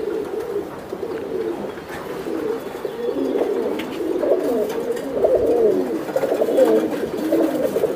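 A racer pigeon pair, an Arabian male and a Pankhi female, coos at close range in rolling, overlapping bouts that swell louder toward the end, with no talk over them.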